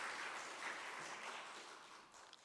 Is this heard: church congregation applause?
yes